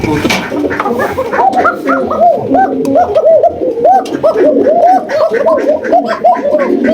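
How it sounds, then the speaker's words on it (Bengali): Many pigeons coo over one another at a busy bird market, a steady chorus of rolling, throaty calls close by that never lets up, with a few faint barks and some murmured voices in the background. "আগে ডাক দেখাই কবুতর"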